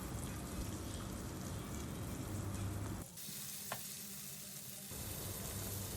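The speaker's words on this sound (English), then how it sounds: "now on medium flame we will saute them until they turn golden brown" Ginger and tomatoes sauté on a medium flame in a pan for prawn butter masala, a steady close sizzle that briefly drops to a quieter hiss midway before resuming at full strength.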